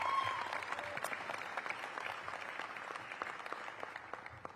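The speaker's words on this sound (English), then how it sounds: "So give her a big round of applause." Audience applause at a DC leaders' announcement of a new partnership deal, steady dense clapping throughout with no voices on top, slowly tapering near the end.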